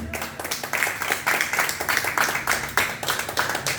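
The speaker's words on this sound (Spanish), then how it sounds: "denle un fuerte aplauso al Señor, por favor." A church congregation claps in fast, steady applause, a dense patter of many hands that stays fairly soft and continuous throughout.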